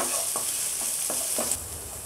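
Chopped ginger and garlic stir-fried in a pan for egg noodles, a steady close hiss of sizzling oil broken by several sharp scrapes of a spatula, with no voices.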